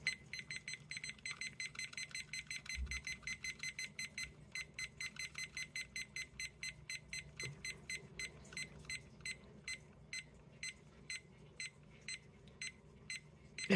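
A timer used while resin art cures gives a long run of quick electronic beeps in a regular, evenly paced pattern, faint but clear, with no voices.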